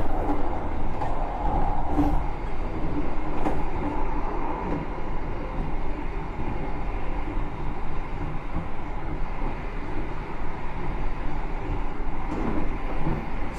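Steady rumble and rattle of the Argo Semeru executive train running along the southern line, heard from inside a passenger carriage, loud and continuous with only a brief voice.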